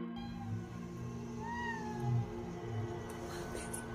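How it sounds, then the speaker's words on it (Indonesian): A single cat gives a drawn-out, wavering meow over a steady low hum in a quiet room. "diikuti dengan suara mengeong yang menakutkan"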